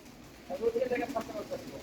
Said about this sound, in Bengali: দেখেন কবুতরগুলো সব ভার হয়ে গেছে